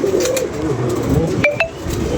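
Large banded pigeons cooing close by in a soft, rolling series of low coos, with a couple of sharp higher chirps in the middle and no voices.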